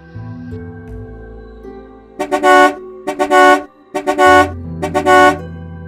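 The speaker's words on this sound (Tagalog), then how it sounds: "Bahagya kaming nagulat sa malakas na busina na nagmula sa sasakyan sa likod namin." A loud car horn honks at night from a vehicle close behind, four sharp, evenly spaced blasts over a low engine hum.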